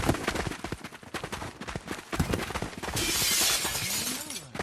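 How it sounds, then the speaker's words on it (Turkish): Glass panes shattering all at once in Fortnite's Squid Game mode, a loud sustained crash of breaking glass following a stretch of busy clattering game sounds, with a sliding tonal sweep near the end. "Aa, bütün camlar kırıldı."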